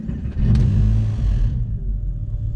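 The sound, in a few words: Porsche 911 engine starting up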